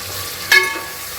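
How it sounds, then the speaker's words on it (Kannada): Carrots, beans and peas go into hot oil for vegetable pulao and give a brief, sharp sizzle with a stirring scrape over a low steady hiss, close by. "ಇವಾಗ ತರಕಾರಿ ಸೇರಿಸ್ಕೊತಾ ಇದ್ದೀನಿ ಕ್ಯಾರೆಟು ಬೀನ್ಸು ಮತ್ತು ಬಟಾಣಿನ"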